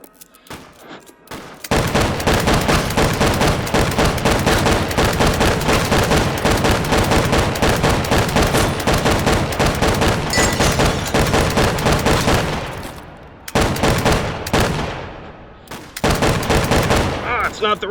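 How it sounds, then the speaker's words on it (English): A Gatling gun fires in the VR shooter H3VR: a loud, close, continuous rattling stream of shots that runs for about ten seconds, then breaks off into a few shorter bursts. "finish him off with the Gatling gun."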